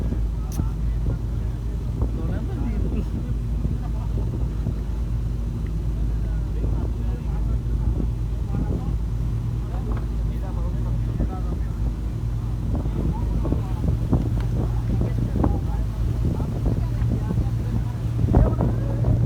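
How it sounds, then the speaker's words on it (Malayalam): A steady low boat engine drone runs throughout on a fishing trip in the Maldives, with wind buffeting the microphone and people talking over it at times. "ബോട്ടിന്റെ സൗണ്ട് ഇത്"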